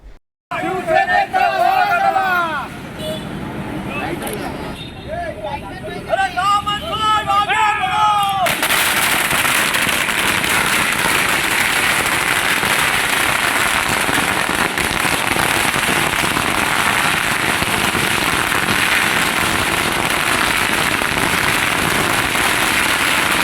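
Voices chatter at first, then a long, dense barrage of firecracker bursts at a political celebration crackles continuously, loud and close, drowning out everything else.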